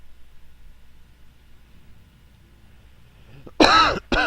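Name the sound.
cough into a headset microphone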